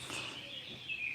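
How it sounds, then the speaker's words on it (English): Songbirds chirping in the background, a few faint, thin high calls and a short whistled phrase near the end, soft and distant. "Hopefully the birdsong in the background's helping to relax."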